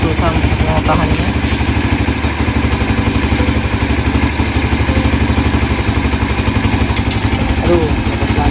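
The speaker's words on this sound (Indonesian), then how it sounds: "Jadi kita starter gas dulu bagaimana, soalnya ini agak susah mau tahannya." A fuel-injected motorcycle with a weak battery runs with a steady, close, chugging engine beat that holds level throughout, while a person talks over it.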